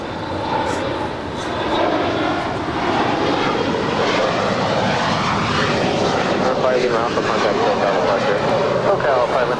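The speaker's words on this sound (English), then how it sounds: "That's Atlas Air Flight 8628 heading to Anchorage. It's a" An Atlas Air Boeing 747-400 departs Los Angeles airport bound for Anchorage, its jet engines a loud, steady roar that fills the whole stretch with no pauses.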